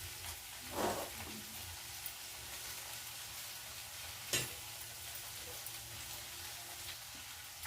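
Small onions dropped into hot oil with mustard seeds and cumin: a steady soft sizzle and crackle close by, with two brief louder spits as ingredients hit the pan, no talking.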